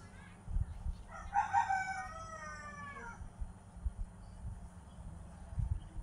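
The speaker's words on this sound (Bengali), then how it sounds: "তারপর বাড়িতে আমি হাঁস মুরগিগুলোকে দিলাম খাইতে" A rooster crows once nearby at a home yard, a clear drawn-out call, with faint low clucking and soft rustling from chickens and ducks around it.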